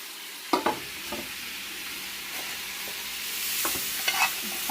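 Onions and bell pepper go into a big pot of meat for homemade pasta sauce, giving a steady soft sizzle broken by scraping stirs and a few sharp clunks of the spoon against the pot.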